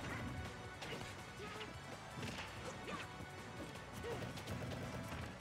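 Hits land in a Super Smash Bros. match between Yoshi and Toon Link, with running up smashes and shield pressure: a rapid string of faint crunching whacks and thuds over busy game noise, no voices.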